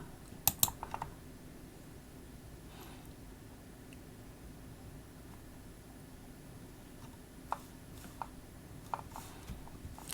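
Keystrokes on a computer keyboard come in a few sparse clusters of faint, near clicks over a quiet room hiss, with long pauses between bursts and no talking.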